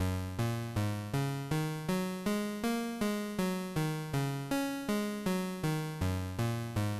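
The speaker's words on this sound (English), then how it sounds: "I'm going to use these pentatonic notes to create a sequence of notes in the sequencer" A slow Sonicware Texture Lab synth sequence steps through sixteen evenly spaced pentatonic notes at 40 BPM, each tone plucked then decaying, rising and falling in pitch, clear and alone with no voices.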